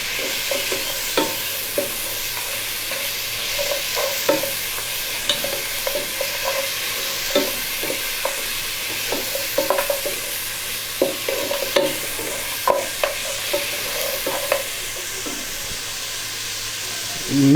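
Beef pieces fry in mustard oil in a pan, giving a steady close sizzle and hiss punctuated by repeated scraping clicks of a spoon as the meat is stirred.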